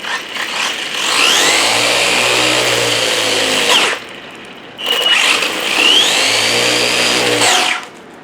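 An Arrma Granite RC truck's electric motor whines up to a high pitch, holds, and drops off. It is revved twice in quick succession, loud and close, with no voices over it.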